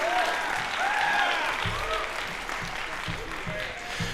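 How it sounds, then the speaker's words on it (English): An audience at a high school jazz concert applauds the young band members with steady crowd clapping, whoops and whistles rising over it and voices talking underneath. "let's give a round of applause for these kids and all the work they've done the last few years"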